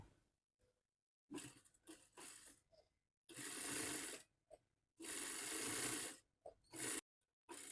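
A sewing machine stitching along one end of a narrow fabric strip cut for a child's frock sleeve: loud, close mechanical whirring in bursts of varying length, with short clicks and pauses between runs.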